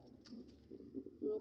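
Pigeons at a breeding coop give a few soft, low coos spread over a brief moment, with the loudest call near the end; faint and close, with no talking.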